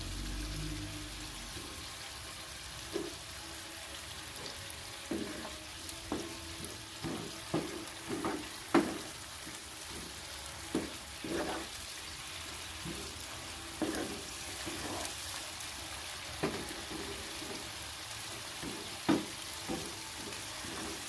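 Pasta cooking in broth in a pan is stirred again and again, with soft sizzling and a low bubbling hiss broken by repeated scraping and clinking spoon strokes at an irregular pace.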